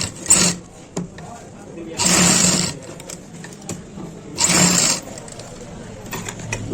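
A sewing machine stitches pants fabric in three short bursts, close and fairly loud, with quieter handling noise between runs.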